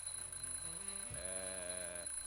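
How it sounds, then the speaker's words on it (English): A smoke detector alarm sounds during a test, giving steady electronic tones that shift in pitch partway through, fairly faint over a constant background hum. "I'm, just testing the smoke detector."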